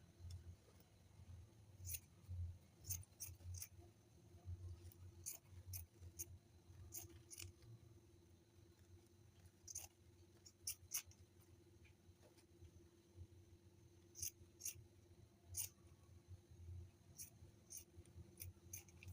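Scissors snip through fabric while a push-up bra cup is being trimmed: faint, crisp cuts in small irregular clusters over a low steady hum, fairly quiet and close.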